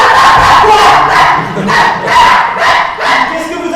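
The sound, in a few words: person imitating a barking dog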